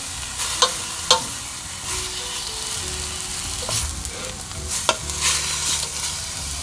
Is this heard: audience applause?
no